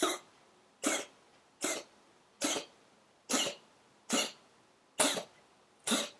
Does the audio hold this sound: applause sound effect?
no